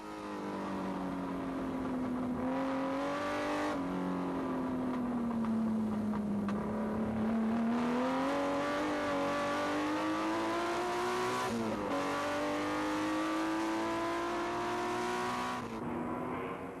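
A race car in the 1997 Tour Auto drives hard with a loud, sustained engine note that rises and falls through gear changes and revs, close and continuous throughout.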